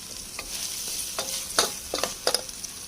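Cumin, fennel, nigella and fenugreek seeds roast in a dry pan, a light crackle broken by sharp stirring scrapes and ticks of seeds against metal, close up.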